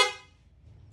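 A single loud aftermarket horn blast from a Suzuki Raider 150 Fi motorcycle at the start, bright and brassy, quickly fading into a low idling rumble.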